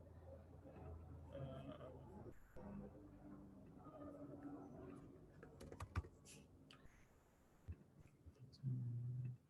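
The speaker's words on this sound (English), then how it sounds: "So, sorry, just typing stuff." Quiet clicking of computer keyboard keys in an irregular rush of typing, heard close up but faint, with a louder low hum near the end.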